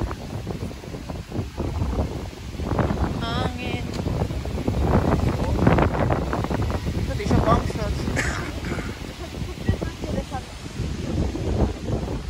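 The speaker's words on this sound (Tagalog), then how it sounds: "Grabe, hangin ngayon eh" Strong wind buffets the microphone in rumbling gusts while people talk over it outdoors.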